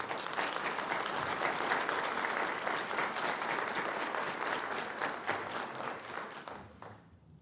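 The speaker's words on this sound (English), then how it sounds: "Big round of applause to all of them." A county commission meeting audience gives a sustained round of applause for new clerk's office employees, the clapping dense and even before tapering off at the end.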